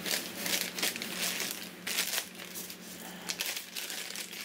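Plastic packing bags crinkle and rustle while a beer trade box is unpacked, in a series of close, irregular crackly bursts with short pauses between them and no talk.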